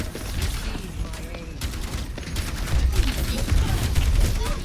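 Gunfire and weapon effects in the video game Overwatch on the Route 66 map, a busy stream of rapid shots mixed with blasts and bursts, growing louder toward the end, with no talk.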